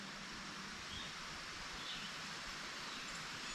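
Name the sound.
stream flowing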